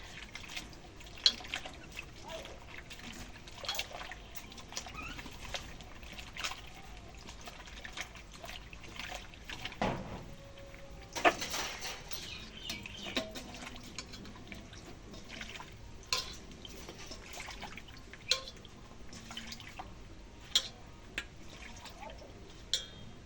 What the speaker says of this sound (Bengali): এখন তরকারি ধুয়ে নেই